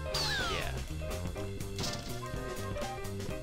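A cartoonish cat meows over the bouncy music of the Katamari Damacy Reroll video game, its high gliding cry rising early on while the steady melodic backing plays throughout.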